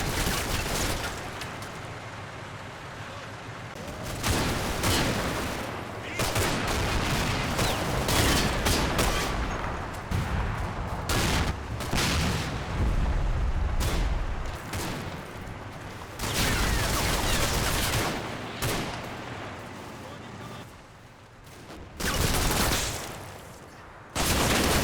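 Hand grenade explosions and gunfire fill a World War II tank battle in the Combat Mission Red Thunder video game, with dense, loud bursts of shots and blasts repeating throughout and brief lulls between clusters.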